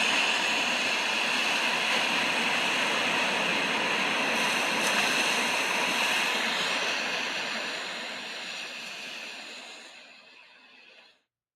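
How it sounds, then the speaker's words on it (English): Ocean waves in a recording, heard as a steady, fairly quiet broadband wash that holds for about eight seconds before fading out. "But the sound I like best is the waves. And I have a recording of it that everyone can listen to."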